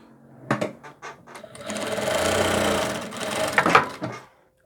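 A sewing machine stitches the side seam of a double-faced coat, running in a steady mechanical whir with a few short bursts before and after the main continuous stretch, close and clear with no talk.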